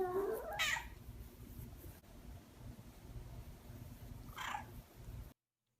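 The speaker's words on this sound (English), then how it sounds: "also the cat kind of sounds like a chicken" A cat character in a Godot-built video game makes a squawking, chicken-like call, one clucky burst near the start and a second shorter one about four seconds later, both over a steady low hum.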